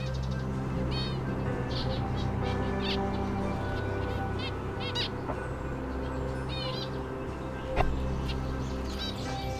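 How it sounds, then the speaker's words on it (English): Zebra finch giving short repeated calls outside a garden aviary, faint chirps scattered through steady outdoor background noise, with a brief louder knock near the end. "He's desperately flying around the aviary, fluttering against the mesh, calling, crying, trying to get back inside."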